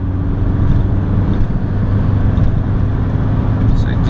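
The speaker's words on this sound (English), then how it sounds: "I'm in 4th gear, and I'm gonna go full throttle and see how it does accelerate for this this car" A stock, high-mileage 2002 VW Jetta TDI diesel at full throttle in fourth gear uphill gives a steady, loud, low engine drone with road rumble that holds constant throughout.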